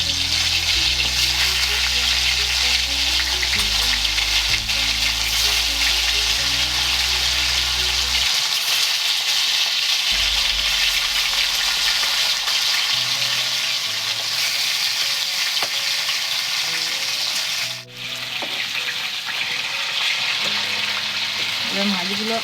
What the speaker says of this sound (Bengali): তেলটা হয়ে গেছে, এবার মাছগুলো এর মধ্যে তেলের মধ্যে ছেড়ে দিচ্ছি।